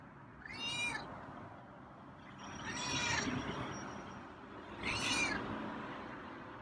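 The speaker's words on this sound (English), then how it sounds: "So he looked up and meowed." A feral cat meows three times close by, drawn-out plaintive calls spaced a couple of seconds apart over a quiet room background.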